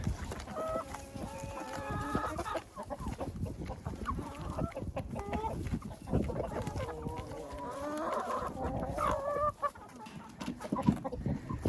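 Hens in a chicken coop cluck continuously at close range, overlapping calls rising and falling with steady background rustle and no talk.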